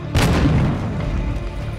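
A C4 charge detonates in Call of Duty: Modern Warfare II, a single loud, close boom with a sharp onset that rolls off into a rumbling decay.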